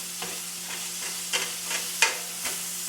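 Shrimp for tacos cooking in a pan, a soft steady sizzle with a low hum beneath and several sharp spatula scrapes and taps spaced about half a second apart, close and alone.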